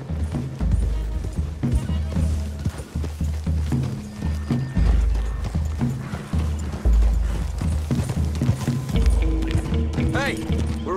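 Rhythmic hoofbeats of galloping horses in Red Dead Redemption 2 thud steadily throughout, mixed with music and a whinny near the end, over a busy game soundtrack.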